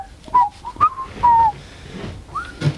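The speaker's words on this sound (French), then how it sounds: "Oh, je sifflote ici ou là?" Short whistled notes on a brick-vault renovation site, a few brief phrases with gaps between them, fairly close, over faint background noise and a low thud near the end.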